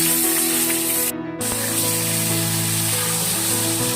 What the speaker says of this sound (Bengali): খুব ভালো করে বেশ আঁচটা বাড়িয়ে বেগুনটা ভাজবো, যাতে বেগুনটাও সেদ্ধ হয় একটু লাল লাল করে।